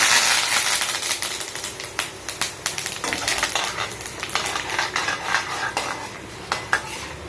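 Curry leaves hitting hot oil with browning urad dal in a pan, giving a steady close sizzle with frequent sharp clinks and scrapes of a spoon against the pan, no voices.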